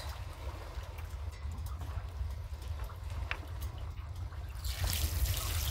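Water gushes from the opened bottom drain plug of a gas-powered water pump, a steady rushing splash under low rumble that swells louder near the end.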